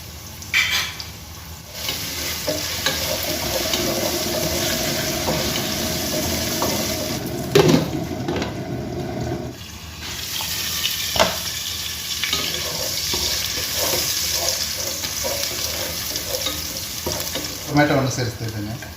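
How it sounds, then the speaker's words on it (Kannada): Ginger garlic paste sizzles in a hot pan for a fish masala, with steady frying crackle and repeated scraping stirs, pausing briefly midway before the sizzling resumes. "ಶುಂಠಿ ಬೆಳ್ಳುಳ್ಳಿ ಪೇಸ್ಟ್ ಸೇರಿಸ್ತಿದ್ದೀನಿ."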